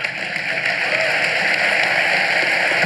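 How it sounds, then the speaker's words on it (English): Sustained audience applause closing a live public debate on faith and culture, a dense, even wash of many hands clapping at steady loudness throughout. "Let's give a round of applause"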